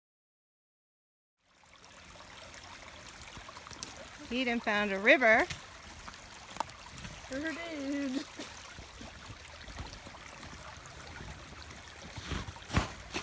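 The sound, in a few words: small forest stream running strongly with snow melt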